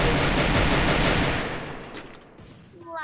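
Rapid bursts of gunfire in the battle royale game Free Fire, a dense volley that is loud at first and fades over a couple of seconds, then a short electronic tone follows.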